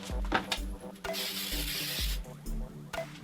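Disinfectant cleaner sprayed onto a textured wall in short hissing bursts, several quick pumps in a row with clicks and handling noises between them, close and moderately quiet.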